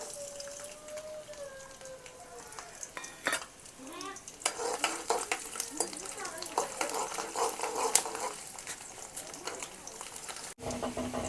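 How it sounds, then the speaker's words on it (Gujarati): Garlic dropped into hot oil sets off a busy crackling sizzle with scraping stirring and pan knocks, close but moderately soft. "તો આપણે લસણ લીધું છે એ નાખી દઈશું"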